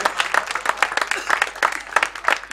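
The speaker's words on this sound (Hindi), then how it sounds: "जोरदार सबसे पहले सर के लिए तालियां" An audience claps for a poet at a mushaira, an Urdu poetry gathering held in Roha. The clapping is close and uneven, with dense bursts of hand claps that pulse in waves and carry no talk over them.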